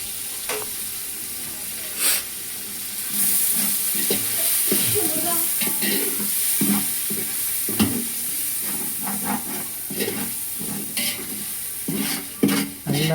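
Biryani masala sautéing with yogurt in a pot for chicken biryani: a steady hiss of frying under repeated scraping and clinking of a spoon stirring against the metal pot, with a faint voice briefly in the background.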